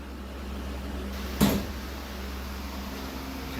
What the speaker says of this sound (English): I don't know if you heard that audible pop